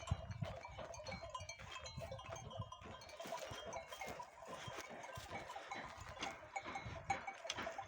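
A flock of sheep returning to a highland camp, with bleats and clinking bells over a continuous shuffling, moderately distant and fairly quiet, with no talking.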